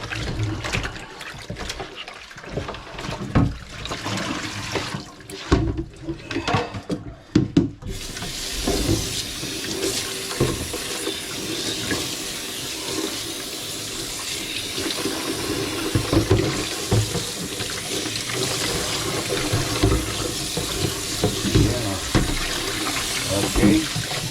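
Water runs from a tap into a sink. It starts in broken splashy bursts with knocks and handling noises, then settles into a steady, fairly close gush that continues to the end.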